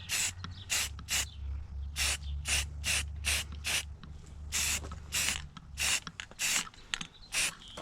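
Short bursts of spray mist onto the interior of a 2000 Lincoln Town Car, about a dozen quick hissing puffs in an uneven rhythm, close and fairly loud over a low droning hum.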